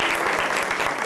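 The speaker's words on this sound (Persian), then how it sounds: "بنابراین تشویق کنید آقای جواد مدرسی رو و آقای مهدی چیسوس." An audience claps in welcome for arriving guests, a dense, close burst of applause that stays steady through the brief moment.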